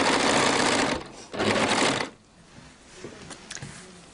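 A serger (overlocker) sewing machine runs in two loud, fast bursts of stitching, each about a second long, then stops, leaving only faint handling clicks.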